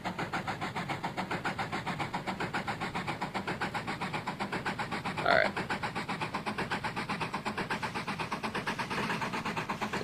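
A steam locomotive in a train video game, the Green Gorge engine with a grand tender, chugs steadily with a fast, even rhythm of exhaust beats, with one brief sharper burst partway through and no talking.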